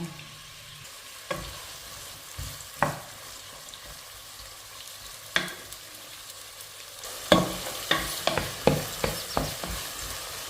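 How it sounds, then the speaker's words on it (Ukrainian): Chopped onion fries in oil in a pan for zucchini lecho, a steady sizzle punctuated by sharp spoon knocks and stirring scrapes, denser toward the end, no voices. "Висипаю туди цибулю і жарю її до світло-золотистого кольору."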